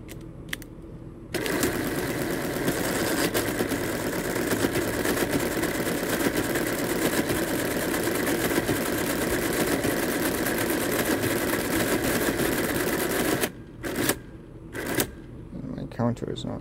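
A Friden SRQ mechanical calculator, the first with automatic square and square root, running its mechanism: a loud, continuous rapid mechanical chattering for about twelve seconds, framed by short clicks and clunks before and after.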